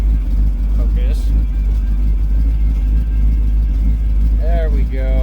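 A hot rod engine idles loudly and close after a cold start, a steady low rumble throughout, with brief voices speaking over it.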